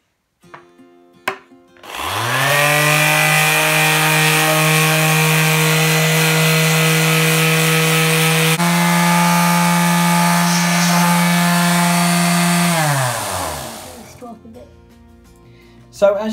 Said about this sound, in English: We're using a 40 grade sandpaper just at the minute to lift a lot off.